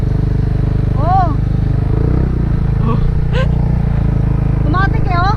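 An engine runs loudly and steadily close by with a rough, throbbing rumble, while excited voices shout over it throughout.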